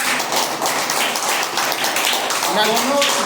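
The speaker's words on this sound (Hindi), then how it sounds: "ताली बजाओ।" Children in a primary school class clap their hands together in a dense continuous burst of many overlapping claps, with a voice briefly audible near the end.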